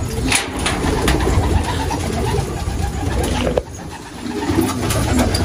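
Pigeons coo steadily in a coop, a dense, continuous murmur of overlapping calls with occasional wing flutters and shuffling, close and fairly loud throughout.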